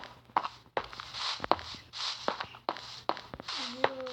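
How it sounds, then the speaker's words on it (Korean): Footsteps walking in a Minecraft horror escape map set in a mansion in the woods, six or seven distinct, evenly spaced steps with crunchy attacks over a low steady hum, fairly close and quiet, with a brief rising tone near the end. "걷는 소리가 되게 무섭네요"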